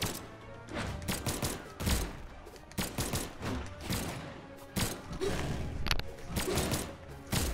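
Video game gunfire crackles in repeated clusters of sharp shots, some in quick volleys, others spaced out, mid-distance and steady over several seconds.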